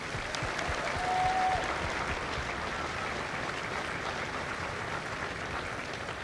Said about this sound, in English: join me in a round of applause for the families of Mike Company